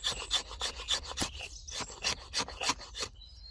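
A Bark River JX5 knife carves shavings from wood in quick repeated scraping strokes, close and crisp, with short pauses between passes.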